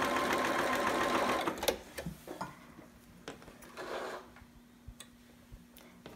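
A sewing machine runs a fast, steady whir while back stitching the end of a romper seam, then stops, followed by scattered clicks and handling sounds.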